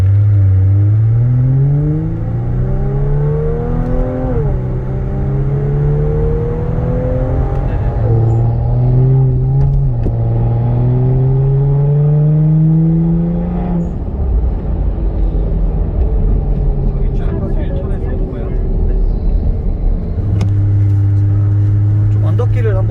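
A Kia Stinger 3.3 with a titanium variable muffler revs and accelerates in sport mode through several gear shifts, its exhaust note rising and dropping repeatedly, heard from inside the car, with talk over it.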